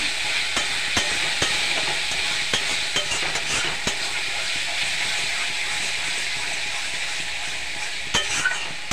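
Spinach paste is stirred into frying masala in a pan for a spinach egg curry, producing a continuous hissing sizzle punctuated by regular sharp spatula scrapes and taps, no speech.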